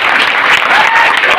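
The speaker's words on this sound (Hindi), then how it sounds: "एक बार और तालियां बजाइए।" An audience at a live marketing plan demonstration event claps loudly in a short, dense burst of applause, close and continuous, with no talking.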